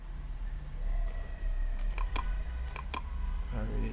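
Computer mouse clicks while browsing a website: a few sharp, light clicks, two pairs spaced about a second apart, over a steady low background hum.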